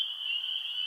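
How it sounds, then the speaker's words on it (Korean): A frog's cry rings out as a single sustained, thin tonal call lasting under a second, steady and clear against a quiet background. "개구리의 울음소리가 들려왔습니다."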